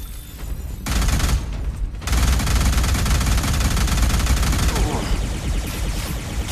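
Sustained automatic gunfire in a 2018 Hollywood alien movie, loud dense rattling bursts with heavy booming low end, continuous across the scene with other battle noise.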